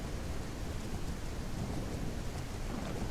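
Steady rain with rolling thunder in the video game Legend of Khiimori, a dense, constant wash of falling water under a low rumble, with no voices.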